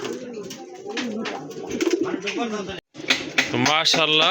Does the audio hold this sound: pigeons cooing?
yes